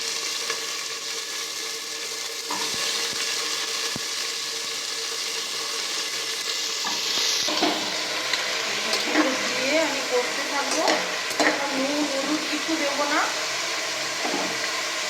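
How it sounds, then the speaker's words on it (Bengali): Mixed vegetables hit hot oil in a pan, a steady broadband sizzle that swells and crackles more busily partway through, with a person talking over the frying. "হয়ে গেছে গরম এবার আমি ন রকমের সবজিটা দিয়ে"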